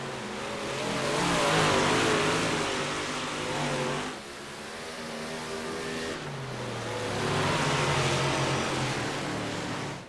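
Race cars racing at Williams Grove, with loud roaring engines swelling and fading as cars pass close by in a continuous pack, accelerating out of the turns.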